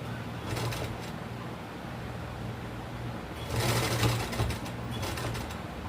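A sewing machine runs steadily while stitching a lace border onto suit fabric, its close mechanical whir continuing throughout and growing louder in a faster burst partway through, with no voices.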